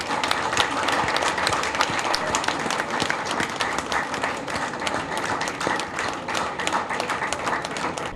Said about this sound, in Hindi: मैं इस्माइल तारा के लिए आपकी भरपूर वो तालियां सुनाना चाहता हूं